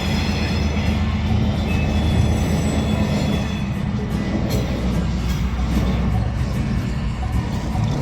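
A freight train on the Alexander Railroad rolls along the rails with a covered hopper, a loud continuous rumble with squealing wheels and metallic creaks heard close by for the whole stretch.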